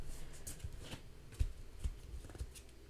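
Tarot cards laid down one by one onto a surface during a reading, giving soft, faint card slaps and shuffles in an irregular rhythm with quiet room noise.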